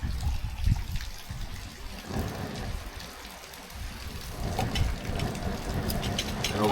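Hot water pours from a Lixada titanium pot on a beach, a soft uneven trickle and gurgle set against outdoor background noise, modest in level.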